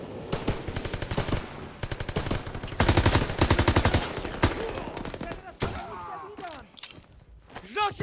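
Rapid bursts of automatic gunfire rattle in a Call of Duty Paris liberation battle, loud and close, in rolling volleys that give way to scattered shots and shouting voices.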